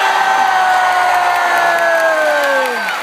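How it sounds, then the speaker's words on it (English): An audience at a community program cheers and applauds, crowd noise with a sustained whistle or whoop sliding downward over the clapping, loud and continuous throughout. "Don't we deserve a louder round of applause?"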